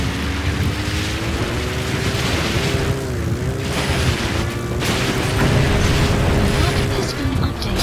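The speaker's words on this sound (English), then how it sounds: "Boss, did you see that explosion?" A vehicle explosion in Metal Gear Solid V: The Phantom Pain, a deep sustained rumbling roar with a droning engine-like tone running throughout, loud and continuous with bursts of crackle.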